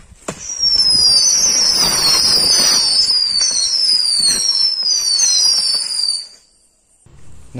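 Loud crackling musical Diwali firecracker burst with rising and falling whistling tones sweeping over a dense fizzing roar, lasting several seconds before cutting off.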